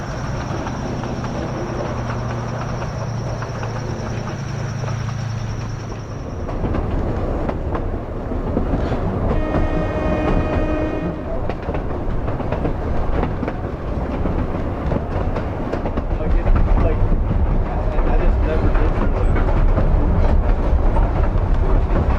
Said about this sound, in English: The train arrives at the Colgate Grove picnic area.